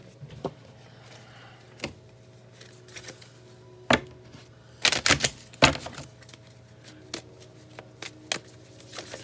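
Tarot guidance cards being shuffled by hand, giving quick riffling bursts and soft taps, close and sparse, with a denser flurry of shuffling in the middle.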